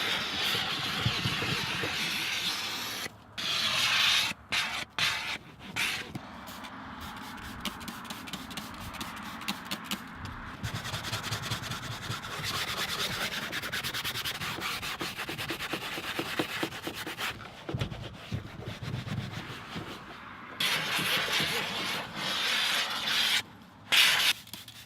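Car seats being scrubbed and cleaned, a steady, close rubbing and brushing with rhythmic strokes and a few short pauses, without any talk.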